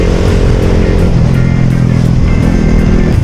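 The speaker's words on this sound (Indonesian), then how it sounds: "Ada rombongan pakai mobil pickup," A group of pickup trucks drives past on a smooth mountain road near Pelabuhan Ratu, heard from a riding motorcycle as a loud, continuous engine and road roar with no talking.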